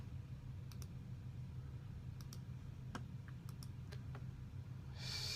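Someone types a search query on a computer keyboard: sparse, faint key clicks spaced irregularly over a steady low background hum, with no voices.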